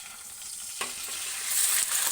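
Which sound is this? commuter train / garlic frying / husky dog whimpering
garlic frying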